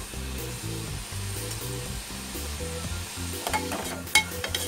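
Onions frying with turmeric in a pan, a soft continuous sizzle under a steady low humming background, with a few sharper crackles and a utensil tap near the end.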